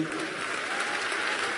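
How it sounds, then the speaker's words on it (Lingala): An audience applauds the keyboard player at a tribute concert, a dense, even burst of clapping that holds steady and fairly close for the whole moment, with no voices over it. "Je vous demande d'applaudir le clavier."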